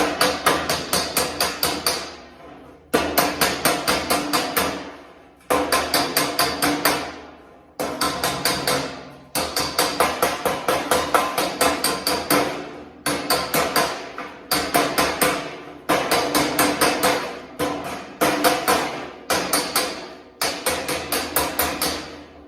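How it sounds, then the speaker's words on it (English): A hammer and dolly flatten sheet metal on a Chevy LUV drag truck build. Loud metallic strikes come in rapid bursts of several blows each, separated by short pauses and repeating steadily throughout, with no talking. "I've just taken a hammer and a dolly from that same set, and I've just kind of held this on the bottom and flattened it out"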